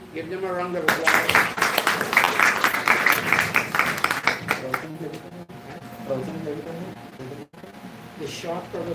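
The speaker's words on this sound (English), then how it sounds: "Give them a round of applause." Clapping from a congregation at a Vedic gathering in Laxmi Mandir, a Hindu temple in Berbice, Guyana. The applause is brisk and dense for several seconds, then thins and fades into quieter room sound.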